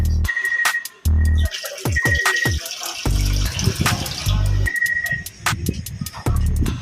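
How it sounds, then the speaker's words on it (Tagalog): Water is poured into a pot of rice for cooking, coming in short splashing gushes separated by brief pauses, with scraping and clinking of the pot in between. "Kaya dagdagan pa natin ng tubig."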